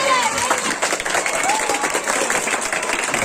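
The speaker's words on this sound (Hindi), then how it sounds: "सब लोग जोर से ताली बजा रहे हैं।" Loud, dense applause from a crowd gathered for the opening of a candle and bicycle-distribution event, continuous clapping with a cheering murmur and voices mixed in.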